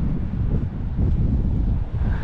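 Wind buffeting a microphone outdoors while walking on a sunny, breezy day, a steady loud low rumble throughout with no talk.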